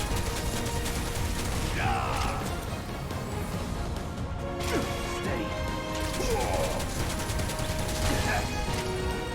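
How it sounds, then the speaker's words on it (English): Dense, continuous crackle of rapid gunfire bursts from Barrett's gun in Final Fantasy VII Remake, with sharp impacts, loud and steady throughout, game-like effects layered over the shooting. "This took 3 full bursts from Barrett with his regular gun."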